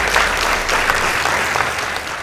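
Audience applause at a school debate competition as Moi Forces Academy's score is announced: steady, dense clapping from a crowd, loud and sustained throughout with no talk over it.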